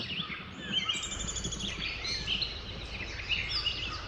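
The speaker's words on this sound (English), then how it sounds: "Hear the birds chirping?" Several birds chirp and tweet in quick, overlapping calls on a farm in the early morning, moderately close over a low, rumbling background of farm noise.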